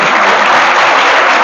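Students in a polytechnic college class clap together in a short, loud, dense burst of applause lasting about a second and a half, with no talking over it.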